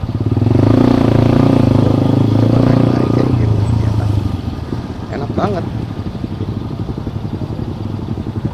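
A TVS MAX 125 custom scrambler motorcycle rides through congested traffic, its engine a steady close rumble that eases off midway, while the rider talks over it.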